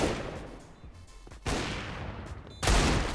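An automatic rifle fires bursts in Counter-Strike on the Inferno map during an ESL Challenger League match, with loud, dense shots in three clusters that strike harder toward the end.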